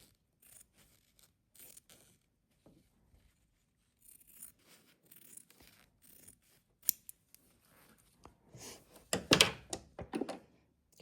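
Scissors trim away excess fabric while a project bag is sewn, a series of soft snips and rustles close by, sparse at first and then a denser flurry of louder cutting and handling noises near the end.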